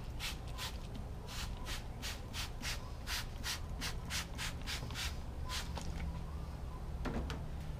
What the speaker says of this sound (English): Just make sure you sanded everything very nicely.